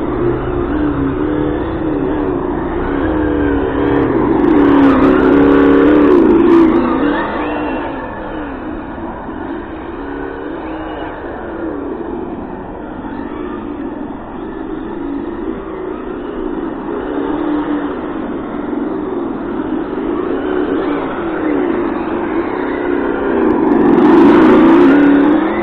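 Hobao Hyper GT-B 6s RC car with a Mamba Monster X ESS sound module, wheels spinning on loose ground, giving a loud continuous synthetic engine drone that swells and revs twice, with no talking.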